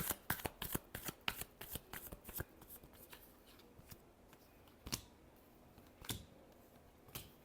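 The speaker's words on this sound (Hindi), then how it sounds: "Last shuffle." Tarot cards being shuffled during a love and career reading, a quick run of crisp riffling flutters followed by a few separate soft slaps and taps, close and quiet.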